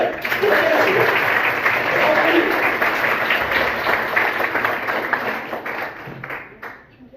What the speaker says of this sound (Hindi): ताली नहीं बजी, ताली बजाओ